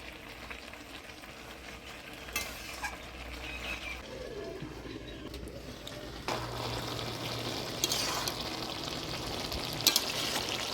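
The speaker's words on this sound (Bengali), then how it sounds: "এবার ভাজে রাখা মাছগুলো দিয়ে দেবো মাছগুলো দিয়ে দিলাম" Pieces of pre-fried fish in hot oil in a pan for a Bengali mixed-fish dish with kalmi greens hiss in a steady, fairly faint sizzle, broken by a few brief clatters and stirring sounds.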